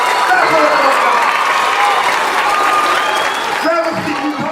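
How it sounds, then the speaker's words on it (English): Loud, sustained applause from a live audience at a motivational talk on education, continuous clapping filling the whole stretch with voices mixed in, easing slightly near the end. "Stand up and give yourself a round of applause."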